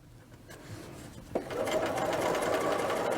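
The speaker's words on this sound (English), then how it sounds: "And I'm just going to keep stitching." A sewing machine stitches a dress collar, starting after a quiet moment and a brief click, then running in a steady, rapid mechanical whir at close range.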